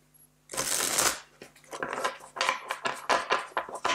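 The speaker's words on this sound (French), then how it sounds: "on va voir ce qu'on a de plus avec le tarot de la Renaissance ici. Alors, là aussi, on va les mélanger un petit peu." Renaissance tarot cards being shuffled by hand up close, a burst of riffling followed by a run of quick, rhythmic card slaps and rustles, with no talking.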